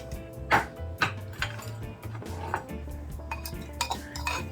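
A mortar and pestle pounds scallion for Jamaican curry goat, giving a steady series of dull thuds with light clinking at irregular intervals, close by and without speech.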